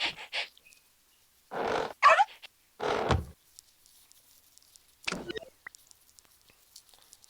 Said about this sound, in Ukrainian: Що там гавкає?